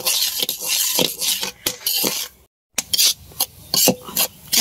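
Peanuts roasting in hot sand in a pan, stirred with a utensil: gritty scraping and rattling strokes in uneven bursts, close and fairly loud, with one short silent gap midway.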